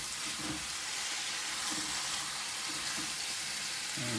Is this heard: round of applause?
no